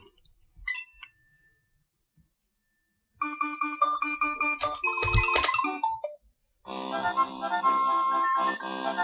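Super Mario World game sound running in an emulator, slightly off in quality: a few isolated blips, then bright chiptune-style music and effects that stop briefly before the melody resumes, clear and close with no talking.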